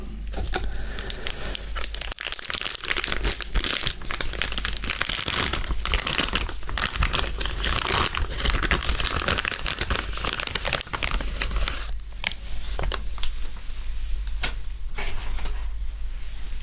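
Plastic packaging crinkling and rustling close to the mic while a Panasonic S5II camera is unboxed, dense continuous crackles with scattered sharper snaps, no talking.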